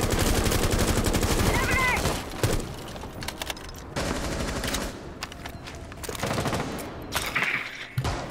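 Rapid bursts of video game gunfire crackle loudly in a first-person shooter match, repeated volleys separated by brief pauses and mixed with game effects, with a player talking over parts of it.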